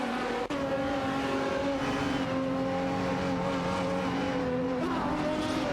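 Ford GT1 and Lamborghini Murcielago RGT race cars in a racing video game, with several engines droning and revving together at high pitch, a sharp click near the start and steady sustained noise from the pack.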